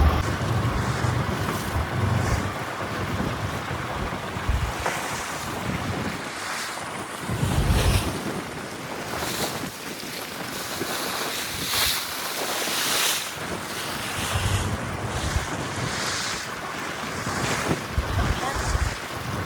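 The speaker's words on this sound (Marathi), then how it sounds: "वारा खूप आहे." Strong wind roars steadily across the microphone while sea waves wash nearby on the coast, a loud, continuous blustery rush with no clear voices.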